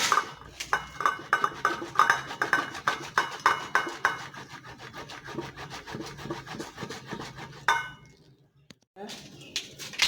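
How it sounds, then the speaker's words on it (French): Black soap grated by hand for a natural skin-care mix: steady rasping scrapes in a quick repeated rhythm, close and fairly loud, slowing and thinning toward the end with a short pause before more scraping. "Donc, je vais râper mon savon."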